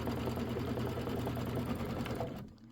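A sewing machine runs steadily while quilting the border of a pillow, a close, loud continuous whir of rapid stitching that stops abruptly near the end.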